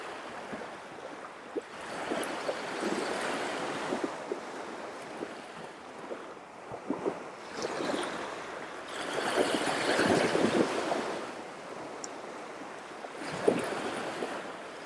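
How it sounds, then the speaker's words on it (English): Sea waves roll in at Cap d'Antibes on the French Riviera, a continuous soft hiss of surf that swells and eases in broad surges over about fifteen seconds, with faint wind in the background. "Let's stay a couple of seconds with that smooth noise of the sea"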